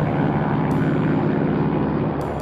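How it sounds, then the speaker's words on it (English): A Piper Saratoga single-engine propeller plane drones steadily and loudly in a continuous, even engine hum with no voices. "The Saratoga is a single-engine propeller plane."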